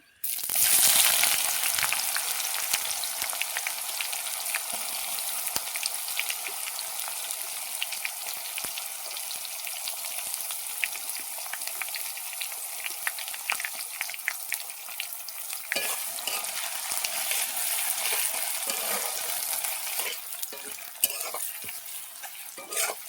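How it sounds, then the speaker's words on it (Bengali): Sliced onions fry in a pan for a beef, cauliflower and potato curry, cooking down until reddish. A loud, steady sizzle runs nonstop from close by, with faint stirring scrapes and no talk. "পেঁয়াজটাকে লাল লাল করে ভেজে নেব"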